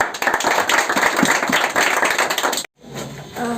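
A group of school students clap together at a farm gathering, a dense, fairly loud burst of clapping that stops abruptly, followed by quieter background noise.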